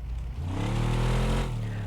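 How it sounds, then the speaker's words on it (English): A car engine revs in neutral inside the Car Mechanic Simulator game, a low steady drone that swells after a brief quiet start and holds loud and close for about a second and a half before easing slightly. "I want to be in neutral and rev the bastard"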